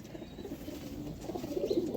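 Soft, low cooing from Fulsira Madras pigeons, a few murmuring calls rising toward the end amid a steady background hum.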